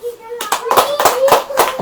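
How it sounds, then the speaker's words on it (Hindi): Hands clap in a rhythmic series of sharp claps, roughly one every quarter second, close and loud, mixed with voices speaking and chanting over them. "ताली बजाओ"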